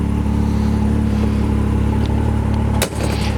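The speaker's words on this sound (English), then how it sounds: "Step around to the back, you can hear the engine." A 2020 Can-Am XMR Turbo RR side-by-side idles with a steady, loud, close engine hum and one brief click near the end.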